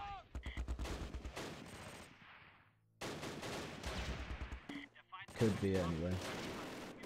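Bursts of MG42 machine gun fire rattle out in rapid volleys in the Close Combat wartime strategy game, loud and sustained with brief pauses and scattered heavier impacts, while a voice talks over part of it.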